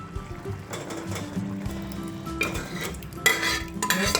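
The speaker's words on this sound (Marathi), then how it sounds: "सगळं मिक्स करून घेऊया" Scraping and clattering of a spoon stirring sambar in a metal pot, with a soft sizzle underneath and a few louder scrapes near the end.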